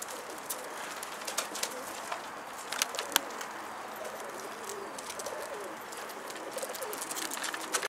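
Pigeons being fed outdoors give soft coos and flutters against a steady hissy background, with scattered brief clicks and pecks, faint and at moderate distance, with no talking.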